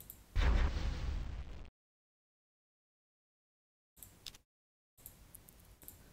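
A loud burst of explosion from the Master of Orion II video game as a ship is attacked, a dense roaring blast for about a second, then silence before a few fainter crackling pops and ticks.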